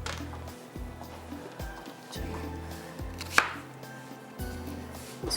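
A knife chops onion finely on a board, about eight sharp, evenly spaced knocks, close and clear with no talk, while oil heats for a green chilli liver dish.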